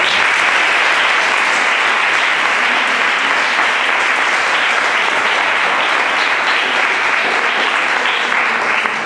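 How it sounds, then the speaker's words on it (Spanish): Loud, sustained audience applause after a speaker in a linguistic sexism debate, dense continuous clapping from a crowd filling the whole stretch without letting up. "Un fuerte aplauso para Juan Pablo."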